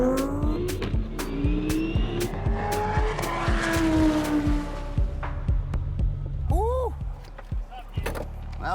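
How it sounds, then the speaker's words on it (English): An Audi R8 accelerates hard through its gears on a half-mile drag racing run, a loud close engine roar with rising revs and brief shift breaks, continuing for several seconds before easing off. "To quench his thirst for adrenaline, Gidi goes for a first run with the Audi R8."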